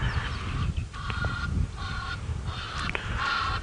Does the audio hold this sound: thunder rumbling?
no